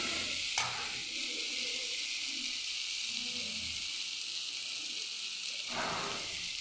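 Pumpkin dhoka being stirred in a pan once the lid comes off, a steady soft sizzle with scraping stir strokes, brief clatter at the start and end as the lid is lifted and handled.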